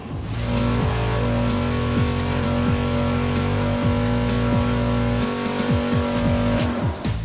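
A V8 engine held at a steady 5,800 rpm on a dynamometer during rod-ratio testing roars loud and constant, a dense droning tone with strong steady harmonics and a few brief chirps, with no voices over it.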